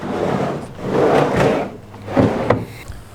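A drawer in an overland camping vehicle sliding open and shut, close and loud, with rolling, rumbling runs and a sharp knock near the end.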